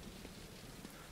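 Steady rain falling around a character in the video game The Division 2, a dense, even hiss of drops with faint soft patters throughout, continuous and fairly close.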